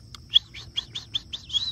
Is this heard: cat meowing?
no